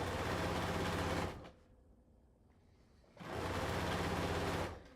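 A sewing machine sews fabric strips in two fast, steady buzzing bursts, close and even, with a brief quiet gap between them.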